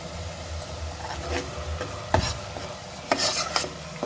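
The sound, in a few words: stirring and frying masala in a pan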